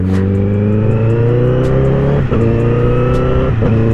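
A Honda CBR 1000cc motorcycle engine revs loudly and continuously nearby, holding a high whining pitch with brief dips as it shifts.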